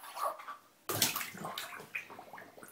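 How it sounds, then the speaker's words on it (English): Dog blowing bubbles in bath water during a bath, giving short bubbly gurgles and splashy sloshes in a few quick bursts, close and fairly quiet, with no talk. "He loves blowing bubbles."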